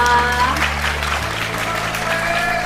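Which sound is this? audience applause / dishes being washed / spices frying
audience applause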